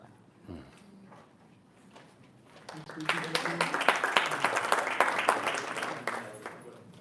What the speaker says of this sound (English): Appreciate the applause, folks, but it really does slow us down